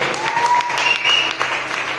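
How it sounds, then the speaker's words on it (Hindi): A gathered audience at an event in Safidon, Haryana bursts into loud, sustained applause, a crowd of hands clapping with a shrill whistle or two rising above it. "एक बार जबरदस्त तालियां माता रानी के लिए, वाहेगुरु के लिए, अल्लाह के लिए, सब जबरदस्त तालियां"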